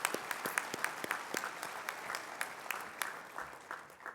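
Applause from an audience at a welcome dinner, a steady wash of clapping with some sharper individual claps standing out, moderately distant and fairly quiet throughout.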